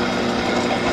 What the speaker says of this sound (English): I'm going to drill right on the corner of the sheet, real close to the edge.